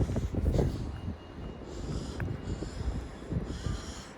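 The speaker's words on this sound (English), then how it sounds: "Excuse me for sniffing, it's very, very cold this morning." A person sniffs a few times on a very cold morning outdoors, short breathy bursts spaced over several seconds against a low, rumbling wind-like background.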